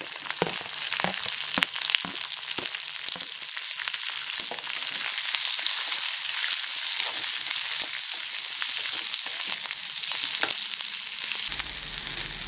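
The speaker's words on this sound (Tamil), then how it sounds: "இந்த பச்சை மிளகாயும் கட் பண்ணி வச்சுருக்கிற பெரிய வெங்காயம் சேர்த்துக்கலாம்." Green chilies and large chopped onion fry steadily in a pan, a continuous close sizzle with occasional stirring scrapes and no voices.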